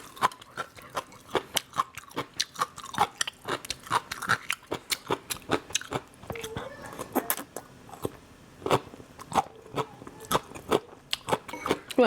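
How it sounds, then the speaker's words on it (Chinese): Crisp, crunchy chewing of dried gongcai (celtuce stem) eaten plain without sesame sauce, close up, with rapid repeated bites and crunches in a steady rhythm throughout. "原来这贡菜干着吃也挺好吃的，不蘸麻酱吃特别脆爽"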